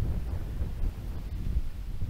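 Steady low wind rumbles across an open golf course, buffeting the microphone in a continuous, moderately loud wash with no clear voices.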